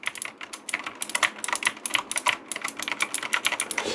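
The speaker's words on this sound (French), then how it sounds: "je fais beaucoup de bruit avec mon clavier" Fast, clicky typing on a semi-mechanical keyboard, a steady patter of keystrokes close up with no voices.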